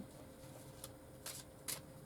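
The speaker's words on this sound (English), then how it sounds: "I shuffle it." Playing cards being shuffled close up, soft riffling with a few sharper bursts, quiet and brief with no talking.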